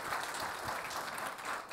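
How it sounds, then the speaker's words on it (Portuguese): A seated audience at a telecom industry panel of CEOs claps for a newly introduced speaker. The dense, even round of applause holds steady at moderate volume, with no voices over it. "Peço uma salva de palmas para o Paulo"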